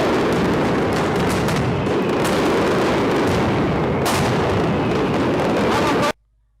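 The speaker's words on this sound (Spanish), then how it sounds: "Empezó la mascletá en el ayuntamiento." Mascletà firecracker barrage at the Fallas in Valencia by the town hall, a dense, continuous roar of rapid detonations and bangs, loud and close, cutting off abruptly at the end.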